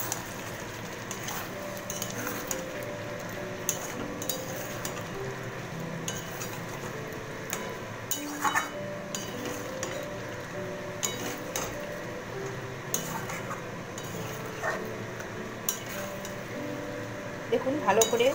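Potatoes stirred with spices in a pan for shahi dum aloo, heard as repeated metallic scrapes and clinks of a spoon against the pan over soft background frying, fairly close and irregular.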